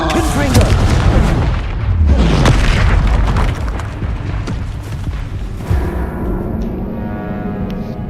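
Blasting-curse explosions in a Harry Potter wizarding video game, a run of loud, heavy booms with crackling debris, one after another over several seconds, fading into a lighter ringing tail.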